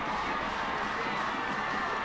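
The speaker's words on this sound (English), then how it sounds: "The crowd goes nuts." Crowd at a high school football game, Effingham County at Statesboro, roars steadily in a dense, sustained wash of cheering as Statesboro scores to take its first lead, loud and continuous throughout with no break.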